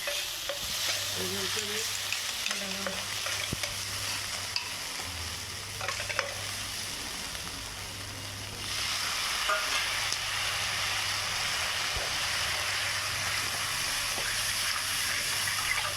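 Soya chaap masala sizzles and crackles in a hot pan while being stirred; partway through, liquid gravy pours in with a gush and the frying carries on loud and close.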